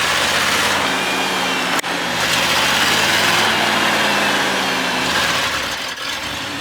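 A vehicle engine straining at high revs while stuck in a corn field, a loud, sustained, close droning roar that dips briefly once before climbing back and holding steady.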